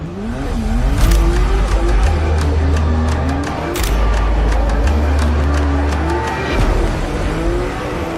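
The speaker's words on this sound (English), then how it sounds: "Yves Meyer in this crazy GR Supra. Fires it up across the line through the gears." Toyota GR Supra drift car at a racetrack qualifying session, its engine loud and close, revving hard and climbing repeatedly through the gears with brief drops between shifts and some tire noise, a commentator faintly audible beneath.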